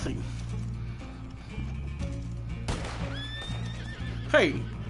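A horse in Red Dead Redemption 2 Online whinnies loudly near the end, a shrill rising-and-falling cry over a low background hum, with some hoofbeat-like thuds earlier.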